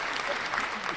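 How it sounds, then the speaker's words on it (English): A short burst of steady crowd applause sound effect, a dense wash of clapping at moderate volume. "Applause. There we go."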